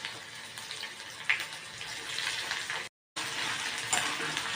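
Ginger garlic paste frying in a little oil in a pan for tamarind chutney, giving a steady close sizzle throughout, broken once by a brief silent gap.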